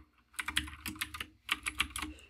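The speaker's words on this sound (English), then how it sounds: "So if we go back to our first terminal tab here and type lsof" Close, quiet computer keyboard typing as a terminal command is entered, two quick bursts of crisp keystrokes with a short pause between, no voice.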